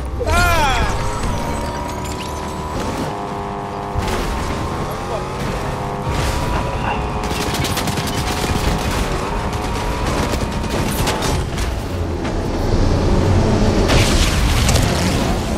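Rapid gunfire from a Fortnite match, bursts of shots cracking repeatedly through a dense mix of game music and effects, with players talking over it.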